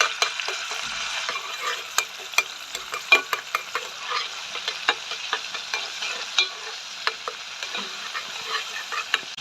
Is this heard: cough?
no